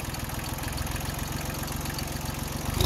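A tractor engine runs while towing a portable house on a trailer, giving a steady, close, low rumbling drone that holds for the whole stretch with no talking.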